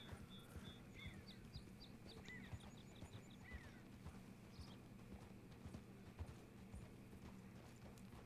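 Horse hooves clip-clop steadily at a walking pace in Red Dead Redemption 2, close and fairly quiet, with a low ambient hum and occasional faint bird chirps over the game's outdoor setting.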